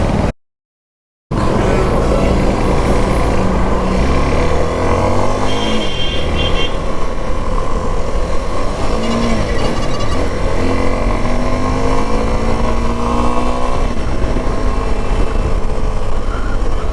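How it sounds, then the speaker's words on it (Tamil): Busy road traffic heard from aboard a Suzuki V-Strom 250 SX motorcycle, a steady dense engine and tyre roar with passing vehicles and rising and falling engine tones, loud and continuous throughout. "ஒரே டிராஃபிக்காக இருக்குது."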